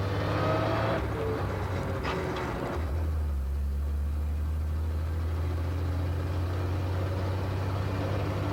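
A 1930 International A5 truck engine drones while driving, a loud steady low rumble with a shift in pitch early on, continuous road and mechanical noise close by with no talking.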